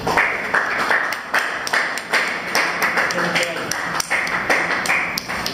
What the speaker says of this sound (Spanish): Un fuerte aplauso para estos alumnos.